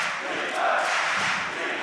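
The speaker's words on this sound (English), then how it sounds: "the crowd over here in Jönköping, they love their Freiburg" Large arena crowd at a Counter-Strike: Global Offensive esports match in Jönköping roaring and cheering, a broad continuous wash of many voices swelling slightly in the middle, loud and sustained.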